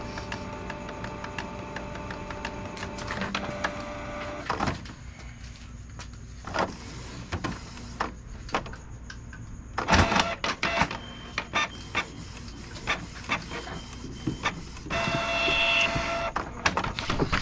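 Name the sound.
Canon G2010 printer running head cleaning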